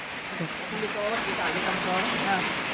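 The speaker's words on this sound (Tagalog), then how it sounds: "Lakas ang ulan." Heavy rain falls at night on a farm, a steady broadband wash of water on surfaces running the whole time, with voices murmuring faintly underneath.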